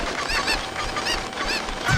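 Cuckoo chickens in The Legend of Zelda clucking and squawking in repeated bursts, several calls rising and falling over a steady game background, fairly loud and close with no talk.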